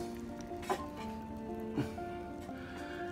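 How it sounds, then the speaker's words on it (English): Mandarin orange and pineapple juice simmer with pork loin in a pan, giving a faint, steady low sizzle under a constant background hum, with two brief louder stirring or bubbling bursts. "you can let that simmer"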